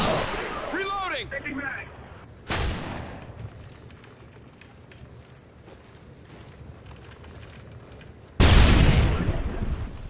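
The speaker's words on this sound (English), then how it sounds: "Tossing stun grenade!" A stun grenade going off in the video game Modern Warfare 2, with two sharp, loud bangs separated by a muffled, ringing lull, mixed with scattered gunfire and blasts, close by.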